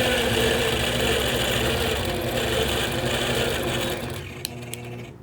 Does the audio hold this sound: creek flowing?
no